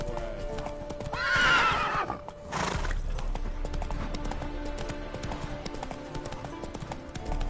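Roach the horse from The Witcher 3 lets out a loud, high whinny followed by a snort, then steady clip-clopping hooves continue over ambient game sound.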